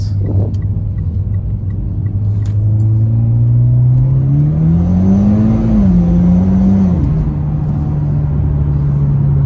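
A Mitsubishi Evo X MR engine drones loud and close inside the car, its pitch climbing steadily under acceleration, easing briefly, then settling into a steady cruise.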